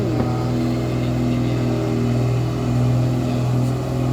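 A Fuso truck's engine drones and strains steadily as it accelerates to climb a steep slope, a loud, close, continuous low rumble with no talk.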